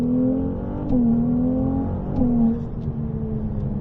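A Ferrari 298 GTB with 820 horsepower accelerating on the Circuit de La Ferté-Gaucher, a loud close engine drone rising in pitch through two gear changes, heard from inside the car.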